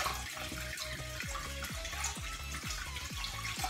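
Water pours steadily from a tap into a sink, a continuous splashing rush with a regular gurgling pulse, close and fairly loud with no talk over it.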